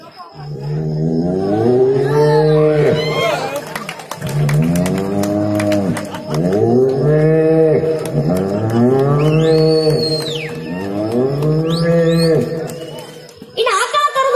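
A voice imitates a cow calf mooing, giving a series of long, loud, drawn-out bellowing calls with short pauses between them, close to the listener.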